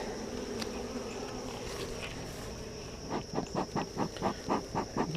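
Dense, continuous buzzing of many defensive honey bees during a hive inspection, with a rhythmic series of soft thumps or brushing sounds in the second half as a frame is lowered in.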